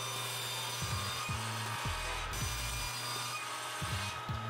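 A hand saw rasps through wooden trestle table stretchers, all four cut together, in steady back-and-forth strokes that sound close and loud, with no talking.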